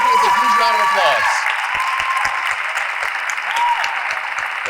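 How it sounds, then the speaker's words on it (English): Audience applause for poetry recitation champions at a state finals competition, a steady dense wash of clapping from a large crowd, with a voice speaking briefly over the start before the clapping carries on alone. "Let's give all of our champions a huge round of applause."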